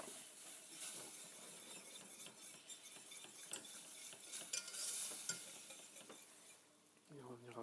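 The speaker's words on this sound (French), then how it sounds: "Tout petit peu, qui va nous permettre de délayer" A spoon stirs a little milk into a roux in a pan while making béchamel for gnocchi à la parisienne, giving soft scraping and swirling sounds with a faint sizzle and occasional clinks of utensil against the pan.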